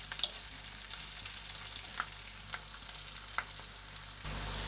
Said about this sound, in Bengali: এখন একটু লাল লাল করে ভাজা হবে কাঁচা লঙ্কা, পেঁয়াজ,